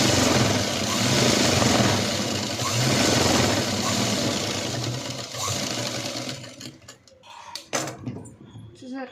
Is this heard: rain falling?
no